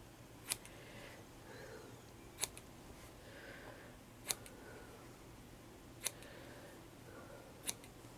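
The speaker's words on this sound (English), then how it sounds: "I need to cut a good couple of inches" Scissors snip through craft material for a layered vintage plaque, five sharp, isolated cuts spaced about two seconds apart over a quiet room background.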